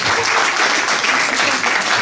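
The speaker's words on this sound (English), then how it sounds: "Give a round of applause," A discussion audience applauds steadily, dense clapping at close range filling the whole stretch without a break.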